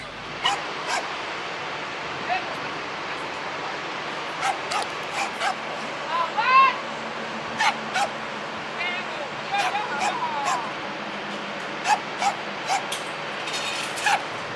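Several small dogs on a building rooftop yip and bark in scattered bursts, some quick runs of sharp yaps and a few whimpers, moderately near against a steady background hum.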